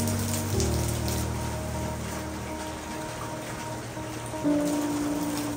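Steady rain falls around an outdoor hot-spring bath in Hakone, Japan, a continuous wash of patter and trickling water with a low hum underneath, no voices.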